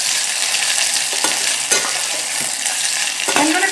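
Onion and mixed vegetables sauté in a hot pan for a gluten-free spring spaghetti, a steady broadband sizzle with a few scraping stirs and utensil taps, close and continuous with no voices.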